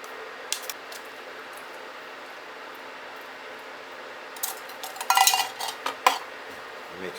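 A spoon scrapes and clinks against a pot while mixing mushrooms into cooked noodles, a burst of clattering stirring near the end after a long, quiet stretch of low background hum, with no talking.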